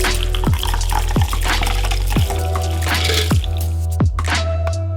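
A cocktail is double strained, and liquid drips in a clear, uneven series of about seven close drops over a low background hum.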